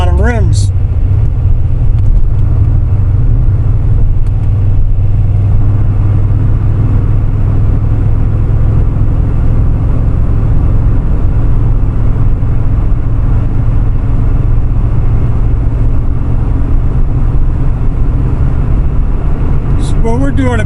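Steady low drone of a C4 Crossfire Corvette cruising at about 70 mph near 2,800 rpm, a constant engine and road hum filling the cabin throughout with no change in pace.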